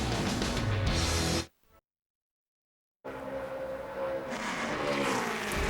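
Denny Hamlin's race car runs a NASCAR Nationwide Series qualifying lap at the Virginia 529 College Savings 250, a loud engine roar that cuts out to silence for over a second, then returns and builds.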